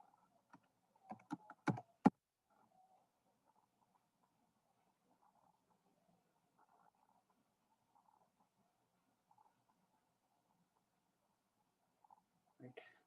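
Quick typing on a computer keyboard, a short flurry of close clicks and taps, then near quiet with faint murmurs, and a few more keystrokes at the end.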